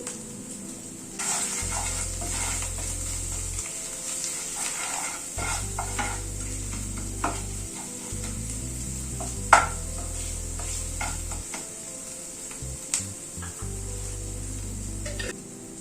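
Ground spices including turmeric, Kashmiri red chilli, salt and coriander powder stirred in a pan for a paneer dish, with scraping spatula strokes and a soft fry sizzle, punctuated by occasional metallic clinks, close by and without talk.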